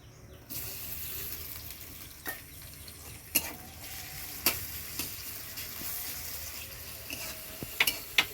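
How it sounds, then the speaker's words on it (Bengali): Onions, garlic and green chilies frying in a pan, a steady low sizzle with scattered sharp clicks and taps of a spatula scraping and stirring, no talking. "লাল লাল করে পেঁয়াজগুলো ভাজা হয়ে গেছে"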